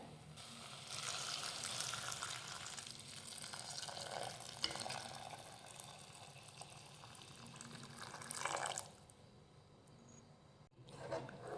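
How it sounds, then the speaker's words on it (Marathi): Hot water pours steadily into a pot of rice with a continuous rushing, bubbling sound, swelling briefly near the end before stopping. "आता यामध्ये घालूयात गरम पाणी"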